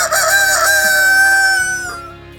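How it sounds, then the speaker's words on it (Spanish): A rooster crows once, loud and close, in one long drawn-out call that rises, holds and trails off at the end, with no voices. "enseguida cantó un gallo"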